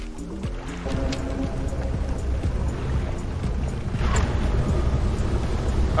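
Boat on water in the fishing video game Dredge, a steady low engine rumble with water washing and splashing around the hull, rising slightly toward the end.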